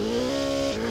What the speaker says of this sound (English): Ooh, we're drifting.